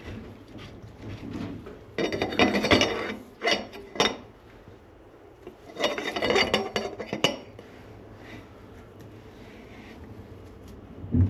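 Fork tube hand-threaded into a KYB conversion kit for a WP fork, heard as metallic scraping, clicking and tool clatter in two busy bursts separated by quieter handling noises, close up with no talking.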